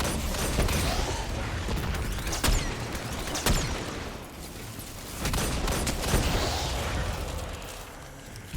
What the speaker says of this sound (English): Decided to throw a few linear fusion rifle shots in there.